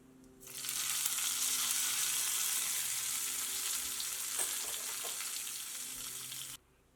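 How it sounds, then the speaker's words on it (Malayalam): Hot tempering poured into a cucumber pachadi curry for an Onam sadya meal: a loud hiss bursts in suddenly, holds for about six seconds, fades slightly, then cuts off. "ഇത് ചൂടോട് കൂടിയിട്ട് തന്നെ കറിയിലേക്ക് ചേർക്കാം."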